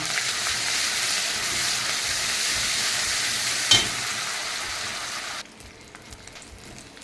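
Spices frying with green chili paste in a pan, a loud continuous hissing sizzle with one sharp clink of a utensil, then the sizzle drops suddenly to a faint crackle; no voices.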